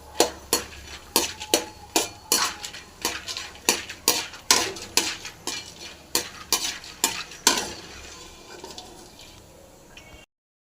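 Dried turkey berries frying in hot oil in a pan, sizzling continuously while a spoon knocks and scrapes the pan in a steady series of sharp strokes, close and loud, before stopping abruptly.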